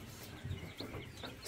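A sleepy, newly hatched chick with its yolk sac not yet absorbed gives a few soft, brief cheeps close by, quiet and irregular, with no one speaking.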